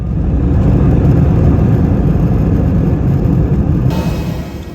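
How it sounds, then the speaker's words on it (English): An airliner lands at snowy Ivalo airport in northern Finland, heard from the cabin as a loud, steady roar of engine and wind rumble that eases slightly at the end, with no talking. "We are landing in northern Finland."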